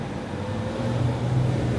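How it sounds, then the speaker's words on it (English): Cars go by outside, producing a continuous low road rumble with a faint rising swell as a vehicle nears, moderately quiet and steady throughout. "so many cars going by as soon as I start doing this"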